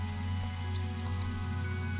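Steady rain falling in the Minecraft video game, a constant even patter with a low hum beneath, continuous and alone with no talking.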